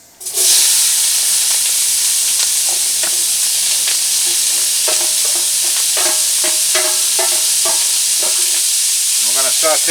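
Vegetables sautéing in a hot pan for a Cajun chicken and pecan rice dinner, a loud, steady sizzling hiss close up with intermittent scrapes and taps of stirring throughout.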